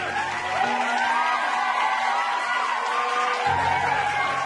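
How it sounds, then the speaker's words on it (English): Steady, dense applause from a crowd, a continuous wash of many hands clapping with faint cheering mixed in, even in loudness throughout. "give a round of applause for the man who apparently now has infinite strength"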